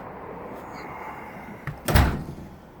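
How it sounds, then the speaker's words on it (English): An apartment door is opened, a single muffled thump and rattle about two seconds in, rising briefly out of a quiet room hum. "I open the door"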